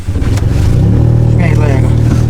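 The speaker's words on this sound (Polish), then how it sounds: "Kluczyk i odpalam auto." A Daewoo Matiz running on brake cleaner as fuel starts and revs hard, a loud, close engine roar rising in pitch over a couple of seconds with people talking nearby.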